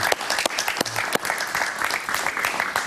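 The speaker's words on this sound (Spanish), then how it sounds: "Un aplauso para él, por favor." Studio audience at a Spanish-language talk show clapping for an arriving guest, a loud, dense burst of applause filling the room, with a few sharp louder claps standing out near the start.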